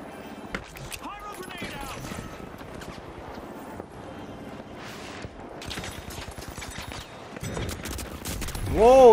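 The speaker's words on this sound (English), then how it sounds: "I thought that was my teammate shooting that, bro" Rapid bursts of gunfire from a multiplayer shooter game crackle through a dense, busy mix, running steadily under game noise before the sound swells loudest at the very end.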